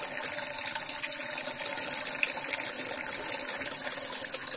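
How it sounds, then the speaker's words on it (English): Cloth being rinsed by hand in foamy water to wash out starch at a colonial crafts fair, a steady close splashing gush of water running without pause and without voices. "We must rinse off the starch."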